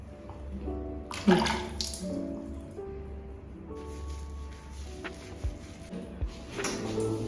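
Water runs steadily from a tap into a tub or sink while a cat is bathed, a continuous splashing wash with a few brief clattering sounds and short tonal cries.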